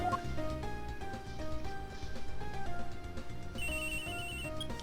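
A phone rings in the video game Miles Edgeworth Investigations 2, a steady electronic ringtone melody of repeating stepped tones that plays alone for several seconds, with a brighter higher tone joining near the end.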